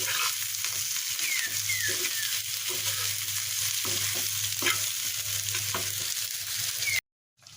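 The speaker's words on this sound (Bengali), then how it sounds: "পেঁয়াজটা একটু ভাজা হলে এটা আমি নামিয়ে নেব তাহলে হয়ে গেল ঝটপট করে পটল ভাজ" Pointed gourd and onion fry in a pan with a steady, close sizzle while a utensil stirs and scrapes through them, then everything cuts to silence near the end.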